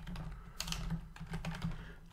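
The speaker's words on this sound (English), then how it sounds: "So I'm going to type equal standardize." A short burst of quiet keystrokes on a computer keyboard as a Google Sheets formula is entered, a handful of close, soft clicks in an uneven rhythm.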